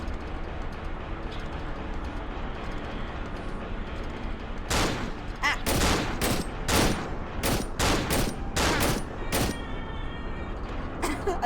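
Gunfire in the horror game Cry of Fear comes in a rapid run of loud, sharp shots in the second half, after a steady background drone.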